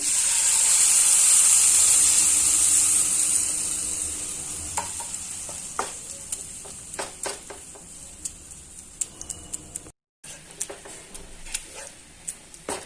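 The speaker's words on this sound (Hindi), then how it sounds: "दूध डालने के बाद इसको लगातार चलाना है।" A pan of spinach and flour (maida) hisses loudly as a glass of milk goes in, then the sizzle fades into steady stirring with light scraping ticks of a spoon against the pan.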